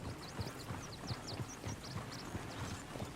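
Horse hooves clip-clopping at a steady walking rhythm in the western video game Red Dead Redemption 2, moderately close, with faint high chirps of birds or tack above the hoofbeats.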